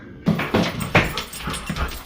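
Dogs whimpering and yipping in a string of short, high, whiny cries, several in a row, close by.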